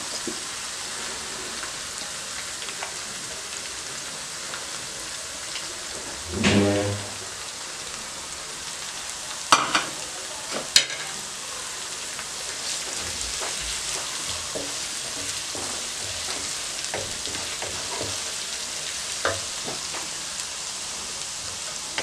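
Green chillies frying with salt in a pan, a steady rain-like sizzle throughout, broken by a few sharp stirring knocks and a short louder burst of crackle, with no speech.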